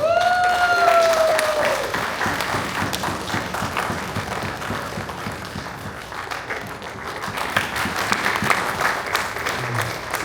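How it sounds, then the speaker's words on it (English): Loud, dense applause from a gala banquet audience at an Indian association's patriotic celebration, continuing for about ten seconds with a brief tonal whistle-like sound near the start and no speech over it. "Round of applause for Santosh ji."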